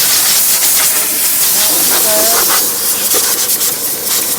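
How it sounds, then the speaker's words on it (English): Air blows from an air compressor wand on a hay farm, a loud, steady rushing hiss that lasts the whole short stretch with slight wavering. "hopefully the air compressor"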